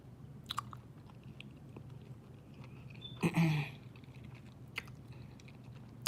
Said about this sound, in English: I'm eating some pizza I made from a tortilla.